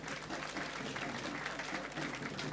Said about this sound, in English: I think this calls for an applause, please.